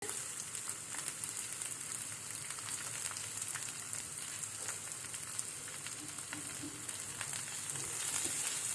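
Onions sizzle and crackle steadily in a hot pan with lightly fried garlic, a close, continuous frying hiss with scattered pops.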